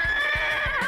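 A horse in the video game You Don't Know Jack lets out a loud, close, drawn-out whinny that wavers in pitch over a soft rhythmic thumping, with no talk.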